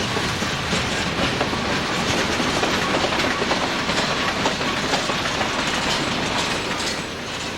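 A mixed freight train loaded with John Deere tractors, chemicals, lumber and steel coils rolls past close by in Pennsylvania, giving a loud continuous rumble with rapid clickety-clack from the wheels.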